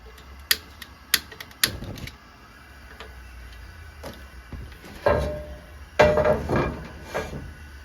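A stove is lit for frying potatoes in bear grease: a run of sharp, separate ticks and clicks, then two soft whooshing bursts as the burner catches, all close by with no talking.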